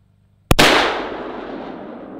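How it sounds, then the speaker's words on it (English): Single 6.5 Creedmoor soft-tip rifle shot fired from the shoulder at a compressed air cylinder outdoors, a loud sharp crack followed by a long fading rumble, with no voices. "we'll just shoot it from the shoulder here"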